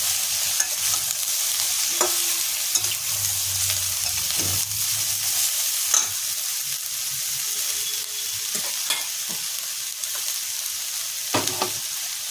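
Ridge gourd and potato frying in a pan with a little sugar, a steady soft sizzle broken by occasional scraping stirs and clinks of the spatula, heard alone without talk.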